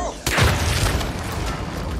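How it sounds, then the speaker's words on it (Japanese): A gas container blows up in Hitman 3 on the Berlin mission, a single heavy boom followed by a rumbling crash that lingers and fades, with talk nearby. "ガス爆発で不幸にも命を落とした人扱いですね"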